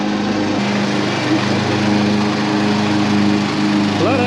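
A John Deere tractor mowing grass on a farm, its engine droning steadily and loud at close range with a constant hum throughout, the pitch shifting slightly near the end.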